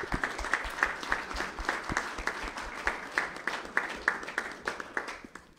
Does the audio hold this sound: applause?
yes